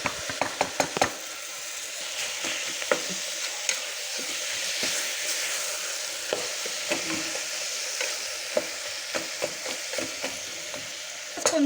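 Tomatoes frying in a pan for sprouts biryani, a soft continuous sizzle broken by frequent sharp clicks and scrapes of a spatula stirring against the pan, with no voices.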